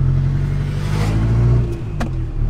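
A modified street car's engine revving steadily while driven near Amphawa, a loud, close mid-pitched drone that holds then dips briefly, with a short sharp click near the end.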